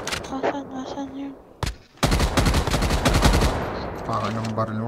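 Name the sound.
gunfire from a video game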